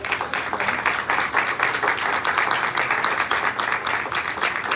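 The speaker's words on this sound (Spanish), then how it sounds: "les brindamos un fuerte aplauso" An audience at a cultural heritage panel discussion in Querétaro applauds the participants with steady, moderately loud clapping from many hands, sustained without a break and heard alone.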